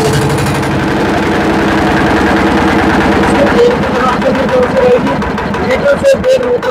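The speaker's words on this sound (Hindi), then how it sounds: "ये 14 HP का एयर कूल्ड इंजन भी 10 किलोवाट अल्टरनेटर रहेगा" A 10 kW diesel generator with a 14 HP air-cooled engine runs at a steady, loud idle. The chugging drone is continuous throughout, and a background voice murmurs over it.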